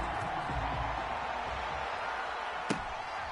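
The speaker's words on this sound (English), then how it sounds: "This crowd is ready as their guys get set to match up between the Kansas City Chiefs and the Baltimore Ravens." A steady stadium crowd roar fills a Chiefs versus Ravens NFL video game on PS4, loud and continuous with a brief thump near the end and faint commentary mixed in.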